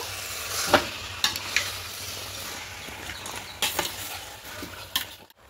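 Pepper chicken fries with spices while being stirred, a close, steady sizzle punctuated by sharp spatula clacks against the pan, with no speech.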